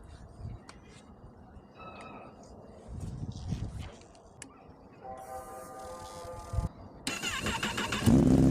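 A motorcycle fires up after being washed, with rough ticking and cranking before the engine catches and runs loudly and close toward the end; voices are heard in the background.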